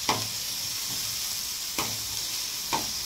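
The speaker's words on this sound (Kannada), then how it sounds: "ಈರುಳ್ಳಿ ಚೆನ್ನಾಗಿ ಫ್ರೈ ಆಗಿ ಸ್ವಲ್ಪ ಉಪ್ಪು ಹಾಕ್ತೀನಿ, ಬೇಗ ಫ್ರೈ ಆಗುತ್ತಂತ." Onions frying in a pan give a steady, soft sizzle, broken by three short scraping stirs spaced a second or so apart, close and fairly quiet with no talking.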